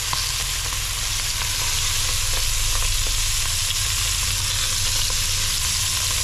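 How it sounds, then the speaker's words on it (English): Squirrel meat sizzles and spits steadily in a hot cast iron pan, a continuous loud searing hiss with no voices. "Nice hot cast iron. Get a little color on these things."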